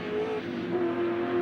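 Touring race cars at Oran Park Raceway during the 1987 Shell Ultra Touring Car Nationals, the number 3 JPS BMW leading, with a steady, droning engine roar and shifting pitch, heard from a distance without talk.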